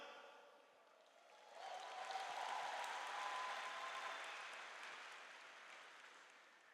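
An audience applauds at a Catholic talk on the Eucharist, the clapping swelling after a quiet moment into a steady, fairly distant wash that slowly tapers off.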